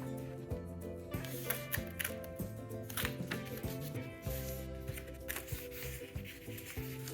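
A paper page is creased and folded along a printed line, with a string of close, faint crinkling rubs and soft crisp taps in an irregular rhythm.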